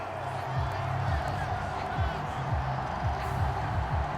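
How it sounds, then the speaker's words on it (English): Simulated stadium crowd in Madden NFL 23 during a Cowboys–Eagles game, a steady dense roar filling the space with low rumbling swells, while a commentator's voice talks over it. "Well, the crowd doesn't like that."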